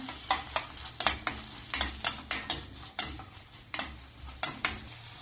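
Cooked carrots and beans being stirred in a pan for oats upma, a steady series of about fifteen distinct scraping strokes with a soft sizzle beneath, close and moderately loud with no talking.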